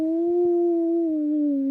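A human voice imitates the howl of a European grey wolf, holding one long, steady, slightly falling tone with no step in pitch, close and clear against silence.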